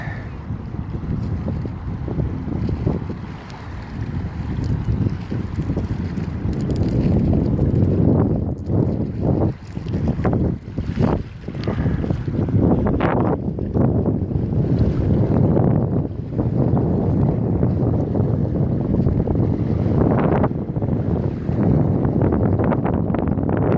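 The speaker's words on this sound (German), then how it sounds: "ist das windig hier" Strong, cold wind in Düsseldorf buffeting the microphone, a loud continuous roar with rumbling low-end gusts that swell and drop in bursts, no one speaking.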